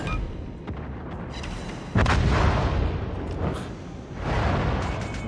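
Cruiser gunfire in World of Warships, heavy booming salvos with a sharp blast near the start and another later, each rolling into a loud sustained rumble.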